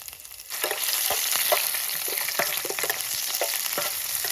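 Whole garam masala, garlic and ginger hitting hot oil in a pan at a cold night campsite, bursting into a loud, crackling sizzle after a quieter start, with popping spatters throughout.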